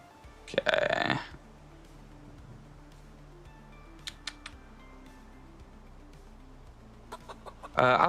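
A chicken in the video game Project Zomboid lets out a loud burst of clucking, followed by sparse clicks and keyboard taps, then another clucking burst at the end.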